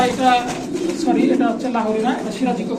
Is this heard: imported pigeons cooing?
yes